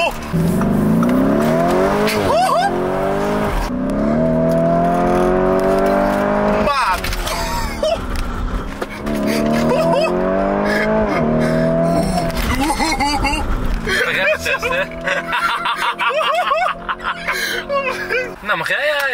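A car with a flame-spitting exhaust accelerating through repeated gear changes, its engine loud, close and rising in pitch with each gear before dropping, continuing with revving and shifting throughout.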